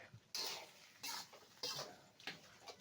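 A spoon stirs menudo ingredients in a pan after oyster sauce goes in, giving four distinct scraping, clattering strokes in an uneven rhythm, close and quiet, with no talking.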